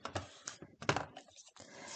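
A paper trimmer opened and run across paper, giving a quick series of close clicks, clacks and sliding scrapes in uneven bursts, quiet and without talking.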